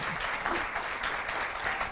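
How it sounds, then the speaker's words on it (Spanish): Loud, dense applause from a church congregation fills the whole moment, steady and continuous with no voices over it. "Dele ese aplauso fuerte al que vive"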